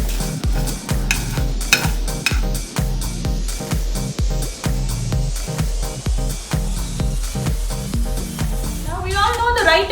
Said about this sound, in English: I'm roasting this on low flame, so this will take about 5 to 10 minutes until it gets lightly brown